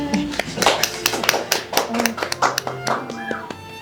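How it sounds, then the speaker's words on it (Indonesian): Applause for a guest on a podcast about women online motorcycle-taxi drivers: a small group claps steadily and close by, with scattered individual claps and a few voices mixed in. "tepuk tangan buat Pak Darna."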